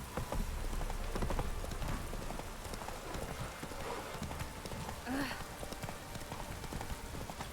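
The horse Roach trots through rainy swampland in Witcher 3: Wild Hunt, hooves beating in a steady rhythmic clip-clop over falling rain. Someone talks over the sound.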